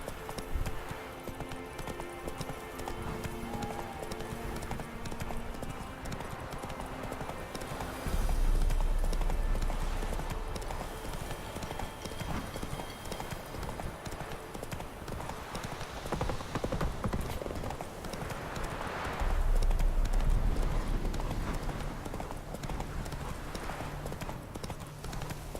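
A horse in The Witcher 3 gallops with a steady, close clip-clop of hooves that runs the whole time, under continuous game ambience and music, with two brief heavier low thumps along the way.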